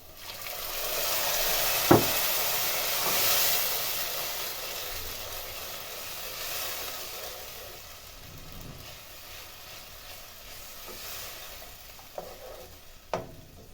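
Blended tomato hitting fried onions in a hot pan while cooking Kenyan wet-fried tilapia: a loud hissing sizzle that slowly fades to a steady simmering crackle, with a few sharp utensil clinks against the pan.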